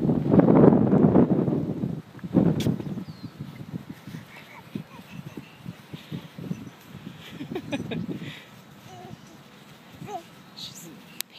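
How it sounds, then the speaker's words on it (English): Strong wind buffeting a microphone outdoors on a walk, loud rumbling gusts in the first two seconds, then gentler steady blowing with a dog panting and scattered movement noises. "Man, it is windy out here,"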